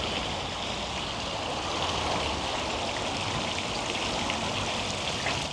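Small fountains in a city park splash steadily, a soft continuous rush of falling water with no voices, even and unbroken throughout.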